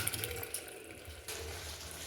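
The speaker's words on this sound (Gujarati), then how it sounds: "હવે પાણી નાખી દઉં" Water pours steadily into a pot of Birbal khichdi seasoned with garam masala and sugar, a soft, continuous splashing rush that is faint and slightly shifts in tone partway through.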